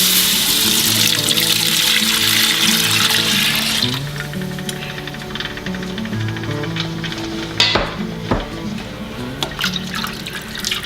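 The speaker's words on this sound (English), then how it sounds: "Careful, it's gonna sizzle." Stock poured steadily into a hot pot for potato soup with a rushing, hissing sizzling splash that settles into lighter bubbling and clinks.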